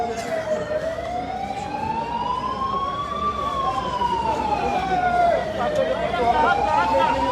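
Ambulance siren wails continuously with slow rising and falling sweeps, loud over road rumble, while the vehicle carrying a patient tries to get through traffic blocked both ways by a police cordon and vehicles.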